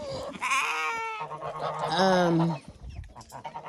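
Loud geese honk close by in a few long, harsh calls that overlap and then break off, with some bleating mixed in.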